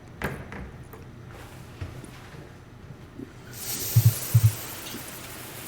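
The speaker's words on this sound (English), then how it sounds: "The shower head spurts out as it starts weakly spraying lukewarm water." In a video game, a shower head starts weakly spraying lukewarm water with a steady hiss partway through, after some faint knocks, with a few low thumps underneath.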